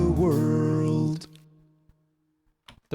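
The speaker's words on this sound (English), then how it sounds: "The reverb and the delay just keep on going" A processed vocal line cuts off and its reverb and delay tail rings on, fading slowly into near silence before brief faint sounds return at the end.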